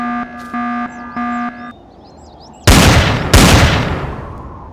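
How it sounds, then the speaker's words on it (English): Weapon fire in the space survival game Empyrion aimed at drones: after a few short electronic tones and chirps, two loud, heavy gunshot blasts ring out about a second apart, each with a booming decay. "Anywhere between 12 and 15 shots to knock it out."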